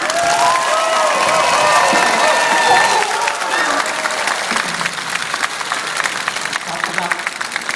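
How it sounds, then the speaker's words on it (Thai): An audience at a stage show claps and cheers, with tonal voices and music over the first few seconds before the crowd's applause carries on alone, dense and steady. "ขอเสียงปรบมือด้วยค่ะ"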